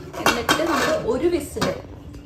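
A pressure cooker lid is set on and closed, giving a few close metallic clanks and scrapes of pot and lid in quick succession.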